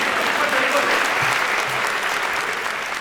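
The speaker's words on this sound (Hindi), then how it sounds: "इस पे तो तालियां बजनी चाहिए।" An audience at a Hindi comedy poetry recital claps in loud, sustained applause, with a voice speaking over the clapping.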